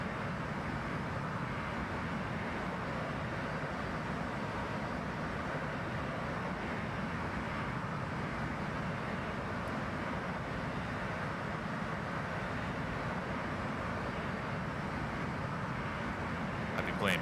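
A Boeing 737-800 airliner cruises between Miami and Charlotte in the X-Plane 11 flight simulator, giving a steady, unbroken engine and airflow drone that stays at the same loudness throughout, with no voices.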